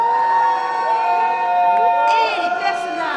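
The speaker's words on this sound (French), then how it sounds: "On les applaudit bien fort." Audience at a Nintendo cosplay contest at Polymanga cheers and shouts as Hyrule Warriors cosplayers take the stage, a steady crowd roar with whoops and music-like tones throughout.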